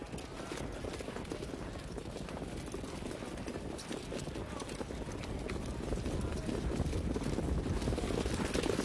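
Harness racing trotters, a field of eight at the Meadowlands, break from the gate at the start of a race, their hooves making a steady clip-clop under loud wind and crowd noise, with a race caller talking over them.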